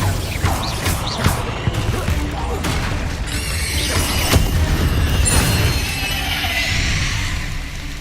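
Repeated Confringo blasting-spell explosions in the Hogwarts Legacy video game, with loud booms and crackling bursts, one sharp blast near the middle, over a dense, constant battle din.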